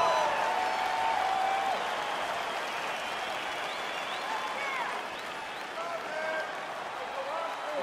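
A crowd roars and applauds at a fight in the UFC 4 video game, a dense, steady wash of cheering that holds throughout and dips slightly toward the end.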